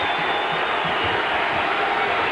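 A huge crowd of about 23,000 to 24,000 fills a college basketball arena for Kentucky versus Tennessee, producing a steady, dense roar of cheering. The noise holds evenly from start to finish with no single voice standing out.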